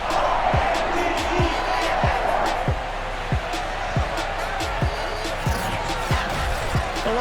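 Baltimore stadium crowd in Madden NFL 22 roaring steadily as the Ravens and Steelers take the field, with repeated thumping bounces and slams cutting through the continuous crowd noise.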